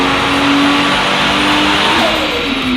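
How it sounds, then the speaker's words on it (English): A Toyota JZX110 Verossa turbo engine revs loudly and close, a sustained roar with a whining pitch that rises and then sweeps down as the revs drop, with a dump valve fitted. "I think it sounds like an old D1 GP with the dump valve and everything."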